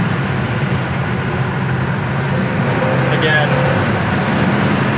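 A 1967 Ford Fairlane GTA driving with windows partly down, its steady engine and road drone continuous and close throughout, with a person talking over it.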